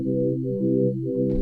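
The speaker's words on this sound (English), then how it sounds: "I'm going to go ahead and use this preset called Autumn Spirit inside Analog Library." Autumn Spirit synth pad preset from Analog Lab plays lush, sustained layered chords that shift smoothly, ending with a short burst of airy noise.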